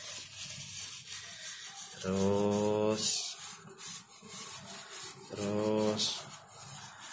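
A keris blade is rubbed in circular motions while being cleaned during a ritual washing, giving two close, moderately loud rubbing bursts a few seconds apart, with quiet background and a brief spoken word.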